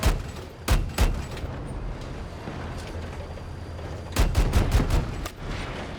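Video game gunfire from a weak weapon, two short bursts of sharp shots, one near the start and a rapid cluster later, over a low steady background with no talk.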